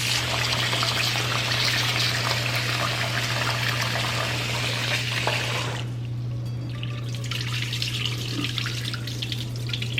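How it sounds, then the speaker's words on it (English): Lukewarm running water streams steadily from a tap while rice is rinsed, a continuous rushing wash with a brief dip in the middle before the flow picks up again. "make sure you wash your rice with some lukewarm water"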